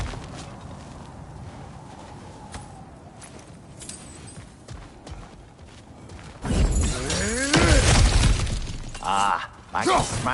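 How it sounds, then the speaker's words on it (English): Objects smashing in God of War Ragnarok: quieter crunches and footsteps early, then a burst of loud shattering, splintering crashes with debris scattering, close and repeated in quick succession. "Back to smashing through things for fun and profit."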